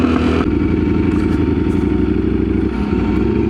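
A Ducati StreetFighter V4 motorcycle rides along a back road, its engine a loud, steady close-up roar with a brief shift in pitch near the start and a slight dip toward the end.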